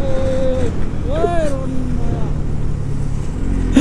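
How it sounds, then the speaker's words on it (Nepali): A motorbike that is not pulling strongly hums along a hill road near Dhankuta, a steady low engine drone heard while riding, with voices talking over it. "यो बाइकले पनि त्यति तानेकै छैन"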